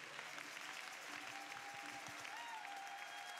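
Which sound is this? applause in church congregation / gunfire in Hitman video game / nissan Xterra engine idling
applause in church congregation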